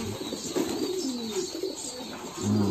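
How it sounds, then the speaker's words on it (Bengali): Fancy and Giribaz pigeons in a loft cage at feeding time, soft repeated cooing close by over a steady background hum. "আপনারা ফেন্সি কবুতরগুলো আছে, নিচে আছে গিরিবাজগুলো"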